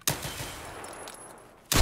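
Automatic gunfire from a full magazine being emptied in the video game Escape from Tarkov, fought in a factory map; a sustained burst of rapid shots runs for over a second, then a louder blast closes it out.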